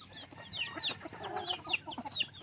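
Several farm chickens cluck and chatter close by in quick, overlapping bursts, with sharp rising calls repeating every fraction of a second.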